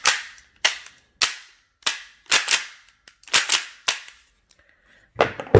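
Short-barrel M870 shotgun firing tracer rounds, roughly nine sharp loud reports in quick irregular succession, near and punchy with brief decays and no talk.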